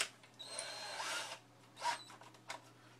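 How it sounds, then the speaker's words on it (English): A power drill fitted with a 3/4 inch paddle bit whirs in two or three short bursts while boring a hole for a sculpture armature mount, close and fairly loud, with a steady low hum beneath. "this is a 3/4 inch paddle bit here"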